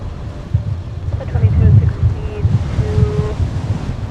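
Strong, cold gusting wind at a snowy airport buffets the microphone in loud, rumbling surges that rise and fall over a few seconds, with no voices heard.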